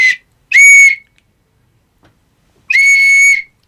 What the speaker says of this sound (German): ich mach mal einen Pfeiftest.